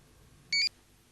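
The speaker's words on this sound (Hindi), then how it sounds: "देखो किसका फोन है।" A phone gives one short, bright electronic ring burst, loud against a quiet room, then falls silent.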